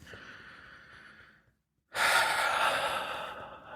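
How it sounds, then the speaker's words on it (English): A person takes a big deep breath up close: a soft airy inhale, a brief silent pause, then a louder, longer rushing breath. "Take a nice big deep breath."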